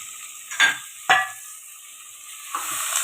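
Two sharp bursts of frying sizzle as finely chopped onion hits hot oil, then a steady crackling hiss with a couple of softer spatters.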